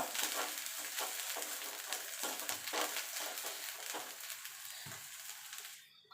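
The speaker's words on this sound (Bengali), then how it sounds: "এবার এটাকে মিনিট 2-3 এইভাবে সাঁতলে নেব।" Kharkol (ghetkol) leaf paste sautéing in a pan gives a steady, close sizzle with faint stirring scrapes throughout, fading out at the very end; no one speaks.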